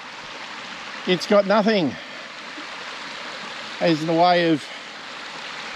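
Constant soft rushing of a river flowing nearby, a steady even hiss that continues beneath and between two short bursts of someone talking.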